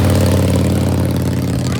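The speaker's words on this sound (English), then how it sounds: "Our motorcycle is so loud." Loud motorcycle engine running steadily up close, a dense low rumble that holds its level for the full two seconds with no talk over it.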